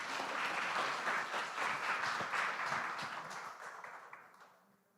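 A church congregation applauds at the close of a Sunday worship prayer, a dense wash of clapping hands that holds steady and then gradually fades out near the end.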